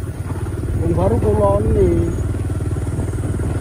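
A motorcycle engine runs steadily with a pulsing mid-range putter on a village road, close and continuous, while someone talks over it in a short vlog exchange.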